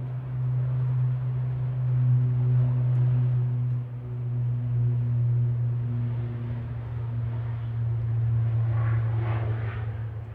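An ATR 72-600 turboprop airliner departs for Belfast, a steady low propeller drone with a strong sustained hum and faint higher engine tones, moderately loud and without speech.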